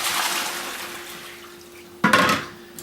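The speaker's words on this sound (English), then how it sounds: "now we want to drain them in a colander" Boiled spaetzle tipped into a colander, a sudden loud splash and rush of draining water after a quiet stretch of faint kitchen hiss.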